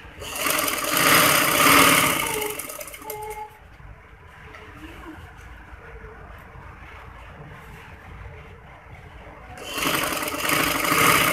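An electric sewing machine runs in steady bursts while stitching piping onto a handkerchief-cut frock. A long whirring run is followed by a quieter pause, then the motor starts up again.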